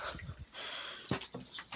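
Young dog whimpering faintly indoors, a few short high whines scattered through low background rustling and handling noise.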